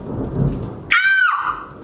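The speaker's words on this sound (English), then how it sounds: "I keep getting distracted by the rain" Rain falls steadily under a sudden sharp thunder crack that hits near and loud, then rumbles and fades back into the patter.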